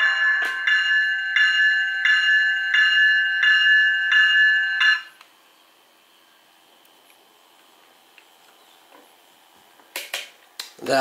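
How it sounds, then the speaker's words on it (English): Automatic electronic bell on a Scaletrains HO scale CSX ES44 locomotive sound decoder rings in a steady, evenly spaced series of about eight strikes, then stops, leaving near silence before a few faint clicks at the end. "That auto e-bell is programmed into the sound file, which can be disabled."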